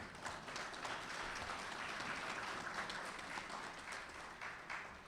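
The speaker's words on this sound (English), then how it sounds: "I want you to give her a round of applause" Faint, distant audience applause at a formal speech event on the digital economy forms a continuous wash of small claps lasting several seconds, with no talking over it.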